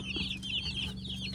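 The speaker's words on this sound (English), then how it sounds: "So this is what 50 baby chicks looks like." Fifty baby chicks just shipped from a hatchery peep together in a dense, continuous chorus of high chirps, close and lively, with a steady low hum underneath.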